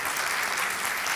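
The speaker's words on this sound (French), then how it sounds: "ça mérite quelques applaudissements" Sustained applause from an audience at the close of a talk, a dense, steady patter of many hands clapping with no voices over it.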